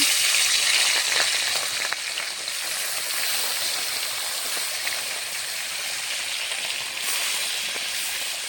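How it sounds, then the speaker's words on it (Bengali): Bata fish rubbed with turmeric and salt sizzles steadily in hot oil, a dense, bright crackling that holds at an even level throughout with no voices. "মাছগুলো এখানে ভাজা হোক"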